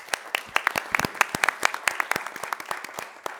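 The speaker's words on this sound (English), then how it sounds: "So if we can give all the other interns a round of applause." A small gathering at a public meeting claps for a group of interns, a sparse, close round of separate hand claps that thins out toward the end.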